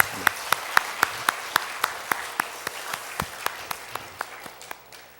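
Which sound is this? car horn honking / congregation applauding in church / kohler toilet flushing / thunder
congregation applauding in church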